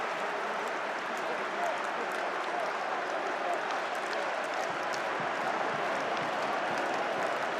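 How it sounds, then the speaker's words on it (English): Handball crowd in an arena at a men's European championship final between Spain and Croatia, a dense, sustained roar of cheering and clapping with a commentator's voice over it. "Cheer from the fans."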